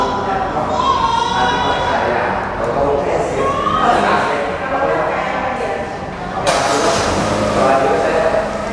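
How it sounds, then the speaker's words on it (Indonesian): A Hyundai Stargazer's engine cranks and turns over from a held push-button start under a man's speech, settling into a steady idle hum. "Kemudian ada mesin nih, starternya harus di hold, ditekan."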